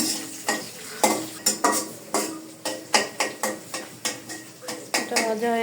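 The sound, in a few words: stirring and frying in a pot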